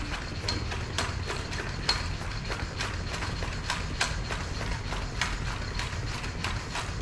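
A hand pump inflates a Pirelli PZero Race tubeless bicycle tyre, with steady rhythmic clicking strokes about twice per second over a constant hiss of air.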